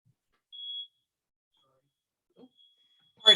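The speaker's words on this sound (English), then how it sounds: "it sounds like there was a bit of a fire alarm that went off" A fire alarm gives a single short, thin electronic beep at moderate volume, followed by near silence, a faint bump and a brief burst of noise at the end.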